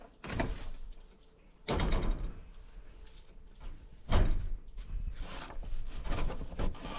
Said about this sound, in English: does not like the sound of stuff being scraped